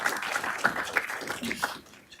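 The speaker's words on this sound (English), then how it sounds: "Please give them a round of applause as we start the panel this morning" Audience applause opening a morning panel at Rutgers University, a steady patter of many hands clapping at moderate level that tapers off toward the end.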